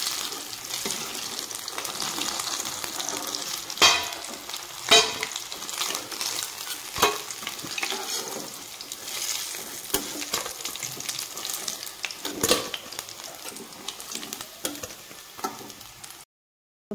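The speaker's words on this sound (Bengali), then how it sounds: "বাকি বড়াগুলো আমি এভাবে ভেজে নেব। একইভাবে সবগুলো বড়া আমি ভেজে নেব।" Lentil and prawn fritters frying in hot oil, a continuous bubbling sizzle close by with sharp intermittent spatula scrapes and knocks, no voices, ending abruptly.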